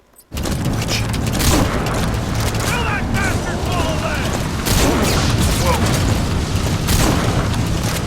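A shotgun fires in Metal Gear Solid V amid a dense wall of game noise. Loud booming blasts come in quick succession over a constant roar, with voices mixed in.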